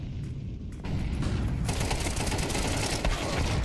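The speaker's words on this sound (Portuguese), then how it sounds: "Mais uma HE, então." HE grenade blasts in Counter-Strike during a professional esports match, with two sharp bursts of noisy booming gunfire-like impact in quick succession over a dense background of game sound.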